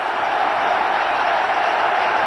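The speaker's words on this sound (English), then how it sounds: "Well, the crowd go berserk." Cricket stadium crowd roaring for a century by Indian captain Azharuddin, a dense, sustained wash of cheering and applause, loud and steady throughout with no break.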